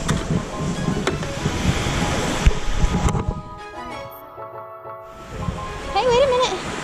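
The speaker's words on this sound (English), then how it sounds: "This is the ocean." Ocean waves wash onto Star Sand Beach in Guam, a steady rushing surf with gusty wind noise on the microphone; the roar eases briefly, then swells again as a voice speaks near the end.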